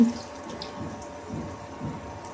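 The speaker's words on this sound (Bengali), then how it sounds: "আমি আরেক বাটি দিয়ে দিলাম।" Milk pours into a pan for butter garlic fish, a soft, close liquid splashing and gurgling in a few gentle surges, with no talking.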